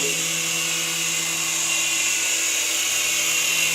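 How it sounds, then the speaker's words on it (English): A small beginner RC helicopter hovers nearby with its rotors spinning, giving a steady high-pitched whine with a constant hum beneath it, unbroken for several seconds and without speech. "The tail rotor is still spinning."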